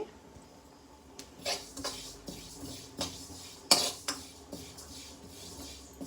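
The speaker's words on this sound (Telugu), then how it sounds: "ఇలా పాన్ పెట్టుకుని ఇందులో నువ్వులు వేయించుకోవాలి ఇలా నువ్వులు వేసుకుని జాగ్రత్తగా మాడిపోకుండా వేయించుకోవాలి" Sesame seeds dry-roast in a pan, stirred with a utensil that scrapes and clinks against the metal in irregular, fairly quiet strokes, no talk.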